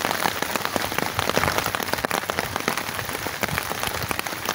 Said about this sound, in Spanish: No sé si se llega a ver cómo está lloviendo